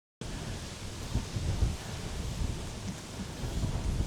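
Steady heavy rain hisses alone with low rolling thunder rumbling through it as a storm moves in over a hilltop fortress site in Sri Lanka.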